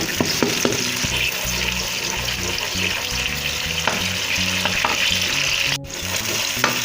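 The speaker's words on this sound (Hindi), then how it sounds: "अब हम इसमें ऐड करेंगे प्याज का जो पेस्ट है वो हमने इसमें ऐड कर दिया। हमने अच्छी तरह इसमें मिक्स कर दिए।" Onion paste fries in hot oil for a kofta meatball curry, a steady loud sizzle broken by clinks of a spoon mixing it in the pan, with a brief dip near the end.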